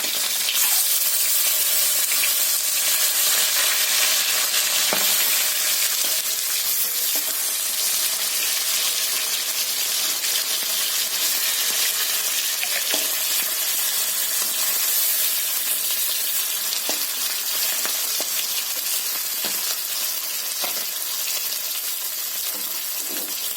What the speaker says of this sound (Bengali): বন্ধুরা মাছগুলো ভাজা হয়ে গেছে, তুলে নিচ্ছি।